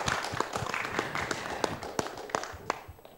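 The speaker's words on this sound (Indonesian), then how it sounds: "Tepuk tangan boleh teman-teman" An audience at an anniversary broadcast event for a local TV station in Jambi, Indonesia, claps in a busy, uneven patter of hand claps with a few sharper close claps standing out, fading slightly toward the end.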